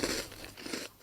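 Someone bites into a crunchy chocolate snack, giving a brief, close, crisp crunch and a little chewing, faint and with no talk over it.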